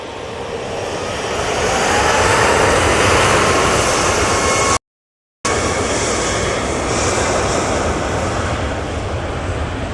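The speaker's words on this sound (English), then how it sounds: "And we also have the A220 for Swiss." A Swiss Airbus A220 jet roars loudly at Manchester Airport, a broad steady engine rush swelling and holding with a brief cutout midway, no talk present.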